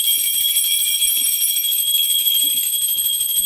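A small puja bell rings continuously in a home prayer room, its bright high metallic tone held steady and close throughout, with a faint hum underneath and no voices.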